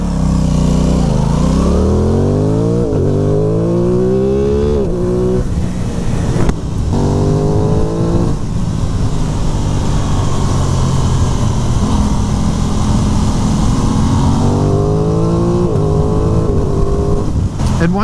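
A 2023 Aprilia Tuono 660 Factory motorcycle accelerates hard with traction control on, engine rising in repeated climbing revs through gear changes, loud and continuous close to the rider, with engine roar filling the whole stretch.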